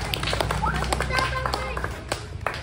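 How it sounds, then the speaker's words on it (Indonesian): Students give a brief burst of applause for a classmate, a quick flurry of close claps with voices over it. "Tepuk tangan dulu buat Halim, ya."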